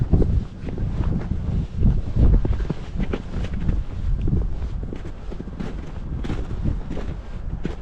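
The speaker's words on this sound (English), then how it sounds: "Nice and blustery up here on this hill" Strong, blustery wind buffets the microphone on a cold hilltop near Williamson, West Virginia. The roar is loud and continuous, rumbling in gusts with no voices.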